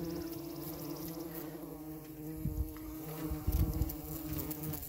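Bumblebees buzz steadily around a pollen patty, a close, continuous droning hum with a few louder swells as individual bees pass near.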